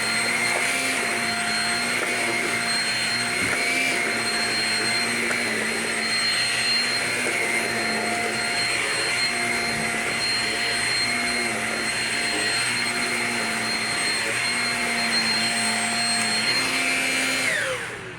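A Shark self-cleaning Rocket vacuum runs steadily on a carpet, a loud continuous motor whine with a steady pitch and a faint rhythmic warble, close up and without pauses or talk.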